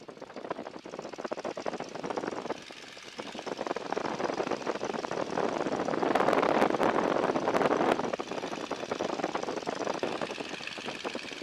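A small propeller aircraft engine runs steadily at close range, a continuous droning roar that swells slightly midway before settling back.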